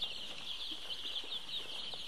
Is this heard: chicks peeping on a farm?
yes